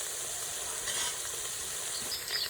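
Onions cooking in oil for gumla shaak while being stirred: a dense, continuous close sizzle and crackle with small swells of stirring, no pauses.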